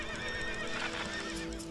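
A horse in the survival game Sheltered gives a loud, continuous whinny layered over clip-clopping hooves, filling the short stretch without any talk.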